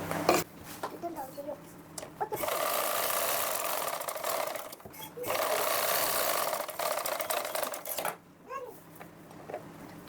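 Sewing machine stitching a lined blouse, running in two steady whirring bursts with brief pauses and mechanical clicks between, close by.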